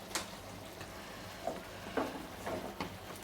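Chicken chaap frying in oil and ghee in a pan is stirred, giving soft, quiet scraping strokes and faint sizzling bursts over a low background hum.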